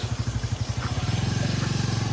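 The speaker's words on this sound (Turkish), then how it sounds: "deli trafik var" A motorcycle engine chugs nearby on a busy road in Alanya, its rhythmic low putter speeding into a steady faster throb, with faint traffic noise behind.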